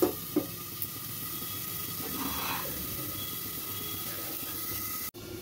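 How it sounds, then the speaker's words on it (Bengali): Eggplant pieces fry in a covered kadai over lowered gas heat, giving a steady, soft sizzle and hiss that holds evenly throughout, with a couple of faint knocks at the start. "এদিকে কড়াতে বেগুনের দানাগুলো ভাজা হচ্ছে, ওটাকে আমি ঢেকে দিয়েছি।"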